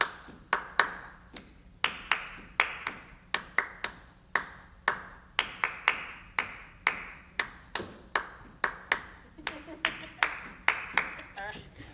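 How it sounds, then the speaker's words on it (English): Two people trade clapped rhythms in call-and-response during a music school audition, including a clave pattern. Crisp, close handclaps fall in short, uneven groups with brief pauses between phrases. "So I'll clap a rhythm and she'll clap it back."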